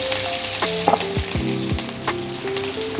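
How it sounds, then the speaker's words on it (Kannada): A curry-leaf tempering spluttering loudly in hot oil as chopped green chillies go into the pan, with sharp crackles and pops over a close, continuous sizzle. "ಚಟಪಟ ಅಂತಿದೆಯಲ್ವಾ, ಈ ಹೆಚ್ಕೊಂಡಿರೋ ಹಸಿಮೆಣಸಿನ್ಕಾಯಿನ ಹಾಕೋಣ"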